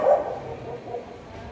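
Dogs bark at a gate at night: one sharp, loud bark opens the moment, then softer yips and whimpers follow, with no talking.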